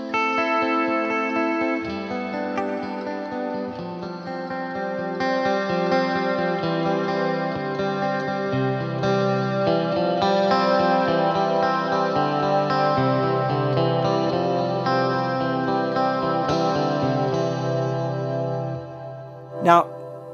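A sustained guitar-like tone drenched in lush, shimmering modulated reverb with effects level and reverb time turned fully up, notes swelling and washing together for about twenty seconds before a sharp knock near the end.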